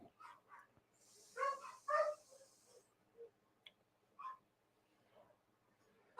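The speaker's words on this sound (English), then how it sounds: "I hear the dogs barking." Dogs bark from somewhere upstairs in a house, a few muffled, moderately distant woofs coming in short bursts with quiet gaps between them.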